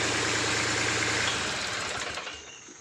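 An Iseki three-cylinder 28 hp diesel engine runs with a steady, close knocking idle, then its throbbing rhythm fades away as it winds down and stops near the end.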